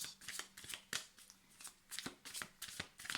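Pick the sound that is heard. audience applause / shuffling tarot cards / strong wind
shuffling tarot cards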